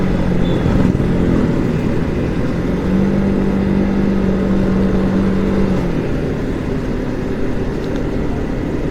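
A Yamaha MT-15 motorcycle slows on engine braking, its engine giving a loud continuous drone that holds a steady pitch, eases slightly, then fades a little toward the end, close to the rider.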